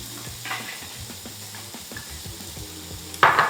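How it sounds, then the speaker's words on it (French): Sliced onions sizzling in a pan for stuffed squid with quinoa and chorizo, a steady close sizzle with light rhythmic stirring taps, ending in a sudden louder burst of hissing. "maintenant on va ajouter les oignons émincés"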